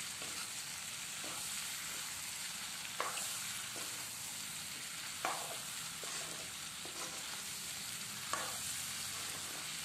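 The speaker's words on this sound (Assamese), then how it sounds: "এতিয়া মই এইখিনি ভালকৈ লৰাই লৈছো যাতে আলু কুমুৰা আৰু মাংসখিনি লগত একেলগে" Potato, pumpkin and meat stirred together in a pan, a soft continuous sizzle broken by regular scraping strokes of a spoon every second or so, fairly quiet and close, with no voices.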